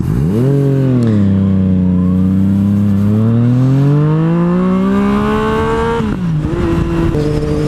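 A 2017 Yamaha FZ09 (MT09) motorcycle roars loud and close as it is ridden, its engine pitch dropping and then climbing steadily through a long pull before a quick shift near the end.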